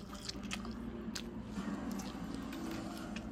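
A dog chews plantain fritters close by, with steady soft wet chewing and crunching running throughout in a quiet kitchen.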